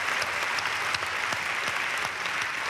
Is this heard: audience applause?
yes